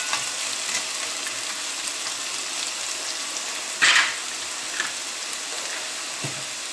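Potatoes frying in a pan, a steady broadband sizzle with faint crackles and one brief louder burst of spatter midway, close and continuous.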